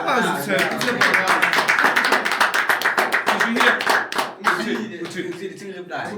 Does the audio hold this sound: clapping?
yes